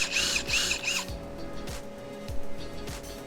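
A power drill boring holes into a wooden window weight access door, a short whining burst followed by quieter mechanical rattles and low thumps as the work continues, with no talking.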